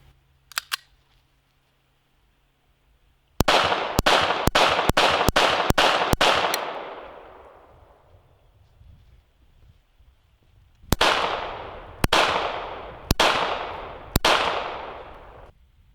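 An East German Makarov semi-auto pistol fires warm-up shots outdoors, a fast string of six sharp, loud cracks with ringing decay, a pause, then four more evenly spaced shots.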